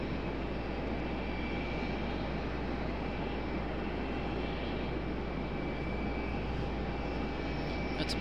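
A steady, continuous engine roar from an airliner landing at RDU airport, droning evenly throughout at moderate distance with no voices over it.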